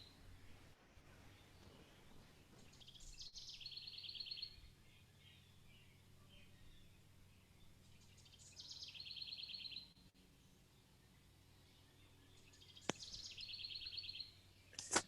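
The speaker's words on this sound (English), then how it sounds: "We hear birds. The birds." Birds chirp faintly outdoors in a few scattered bursts of high-pitched calls, separated by quiet stretches, over a low background hum.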